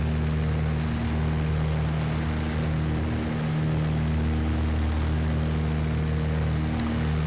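A propeller aircraft climbs in the X-Plane 11 flight simulator game, giving a loud, steady engine and propeller drone with constant tonal hum that holds without a break throughout, no talking.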